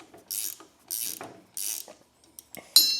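Ratchet wrench turning a tap inside a plastic transmission, heard as three short bursts of rapid clicking with pauses between, followed by a few sharper metallic taps and clinks close by.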